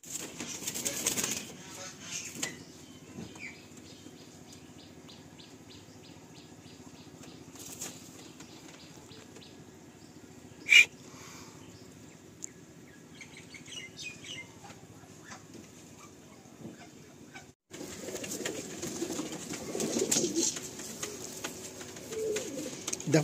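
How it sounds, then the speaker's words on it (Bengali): Pigeons at a Kolkata loft housing large Kalasabuj birds give soft repeated cooing and a brief burst of wing flapping as they are let out, with steady outdoor ambience throughout. "আসুন আমরা পায়রাগুলোকে রিলিজ করে দিই।"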